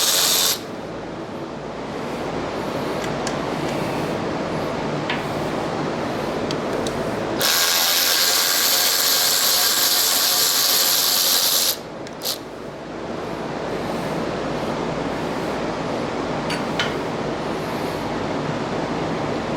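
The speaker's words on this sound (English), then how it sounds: "Battery operated ratchet" A battery-operated ratchet whirs in a loud, steady burst for several seconds, set among shorter mechanical noises while work goes on on a T56 transmission for a 1950 Chevy pickup.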